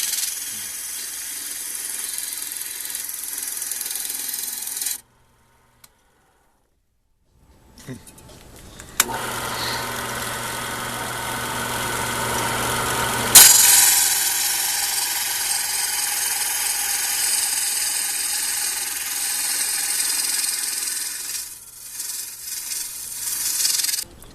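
Horn stock being turned round on a lathe to take the corners off for a horn cup, a steady broadband abrasive scraping and rubbing with machine hum, interrupted by a short silent pause before resuming loud and continuous.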